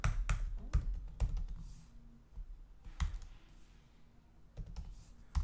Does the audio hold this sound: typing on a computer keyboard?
yes